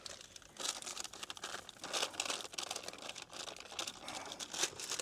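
Paper crinkles and tears in steady, fairly close rustling bursts while a pizza is put onto a barbecue, with no talk over it.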